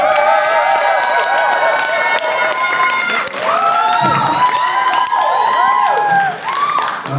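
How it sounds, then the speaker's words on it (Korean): At a media conference for a K-pop fan-con in Manila, a crowd applauds and cheers loudly, with high shrieking voices and whoops rising and falling over steady clapping throughout. "dapat merong palakpak para sa kanila."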